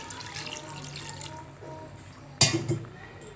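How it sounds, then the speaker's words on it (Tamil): Water pours and splashes briefly into a pan of chicken gravy after a soft background hiss, a short close splash followed by a quieter trickle. "இப்போது இந்த கிரேவிக்கு தேவையான அளவு தண்ணி ஊற்றிக்கலாம்."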